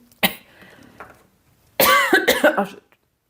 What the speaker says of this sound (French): je dois tousser, ça me grattait dans la gorge